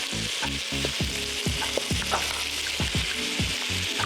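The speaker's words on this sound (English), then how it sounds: "So we're gonna just go ahead and let this cook down for about maybe another 5 minutes." Diced yellow and white onions, red bell pepper and garlic frying with browned meat for Frito pie, giving a loud, close sizzle with rhythmic scraping stirs repeating throughout.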